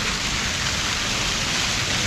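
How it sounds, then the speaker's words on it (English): Steady, close rain pours over the Chandragiri hills, a dense unbroken hiss of drops that holds even for about two seconds with no voices. "you can see here it's raining and we are feeling super cold"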